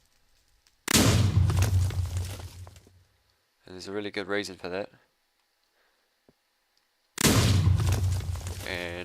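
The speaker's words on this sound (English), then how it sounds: "there's a little lag spike every time there's an explosion" Two loud, dense bursts of Minecraft explosions from a volcano-filled world, each booming for about two seconds with a long rumbling tail, separated by a stretch of someone talking.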